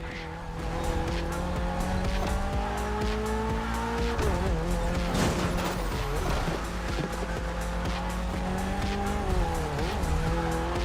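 A Mitsubishi Evo X races in the video game The Crew Motorfest, its engine droning loudly with rising and falling pitch while tires squeal and skid repeatedly through the run.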